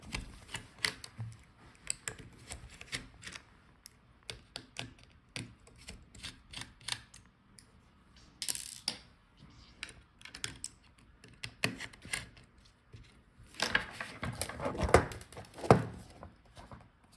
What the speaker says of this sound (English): Let's unscrew these screws.